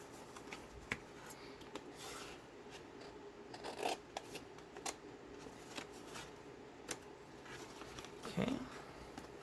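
Scissors snip out a small paper carrot shape, with soft crisp cuts and rustling paper, some sharp clicks, faint and close, with a voice murmuring at times.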